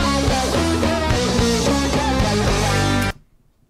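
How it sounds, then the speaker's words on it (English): Dense, distorted prog-rock band riff, a chromatic descending line in straight eighth notes, loud and driving for about three seconds before cutting off abruptly into silence. "It's this big chromatic descending riff in straight eighth notes."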